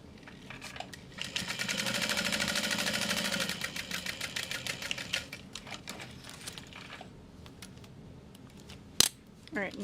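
A sewing machine stitches a mini handbag, whirring in a steady run of about two seconds, then slowing into intermittent rattling stitches and clicks, followed by quiet handling noises and a sharp tap near the end.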